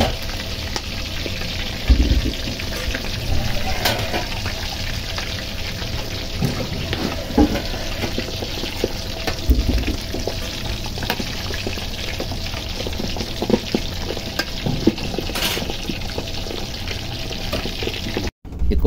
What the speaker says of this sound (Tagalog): Kaya doble ingat sa pagpiprito ng lechon kawali at baka matalsikan tayo ng mainit na mantika.